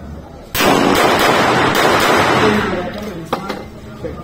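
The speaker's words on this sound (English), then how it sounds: "Para X 45 caliber. High cap. Loaded. Firing." A Para .45 caliber high-capacity pistol fired at close range, a loud burst of sharp shots with a lingering crackle and echo, followed by a fainter report as the sound dies away.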